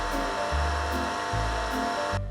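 A Makita GB602W bench grinder sharpening a drill bit, its wheel whining steadily up close while the bit is pressed against the stone three times, each contact adding a rough grinding roar before the motor is cut near the end.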